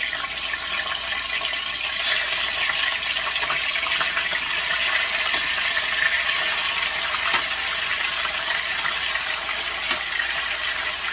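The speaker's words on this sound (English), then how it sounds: "It's gonna sizzle." A steady, hissing sizzle of boneless pork chops frying in a pan, continuous and fairly loud throughout with no voices.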